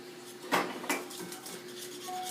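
A cooking pot is handled on the stove, with two metallic knocks and clinks of cookware close by over a low background hum, and no talk.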